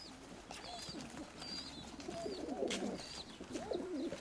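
Pigeons cooing softly in low throaty rolls, with higher bird chirps scattered over a faint steady background.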